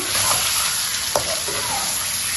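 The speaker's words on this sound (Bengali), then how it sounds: "এগুলো আমি এভাবে একটু পেঁয়াজ দিয়ে তেল দিয়ে কড়াইতে নেড়ে চেড়ে নিয়ে নিব।" Onion stir-fries in hot oil in a wok, a dense, steady sizzle with a brief scrape of the spatula partway through, close and loud, with no voices.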